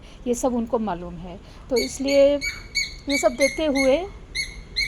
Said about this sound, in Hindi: वो पंछी की आवाज़ आ रही है